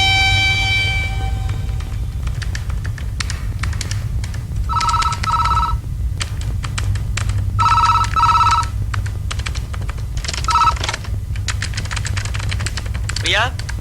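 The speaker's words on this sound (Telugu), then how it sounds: "నీకు ఫోన్." A telephone rings in repeated short electronic bursts over a low room hum, with people talking nearby between the rings.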